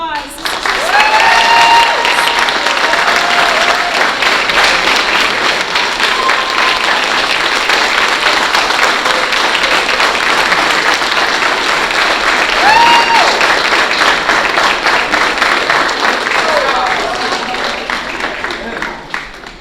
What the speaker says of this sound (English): if y'all will give them a round of applause